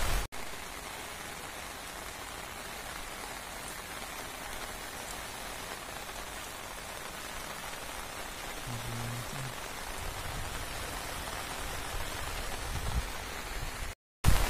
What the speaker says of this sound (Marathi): आता पाऊस सुद्धा आलाय आणि इकडचा नेचर आहे तो एकदम मस्त मस्त झालाय